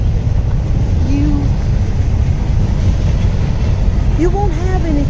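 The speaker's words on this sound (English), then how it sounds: "You see the train in the background going?" A train rolls past somewhere in the background, a steady rumble under constant outdoor noise, with brief tonal squeals or whistles rising above it.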